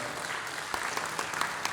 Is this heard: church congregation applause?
yes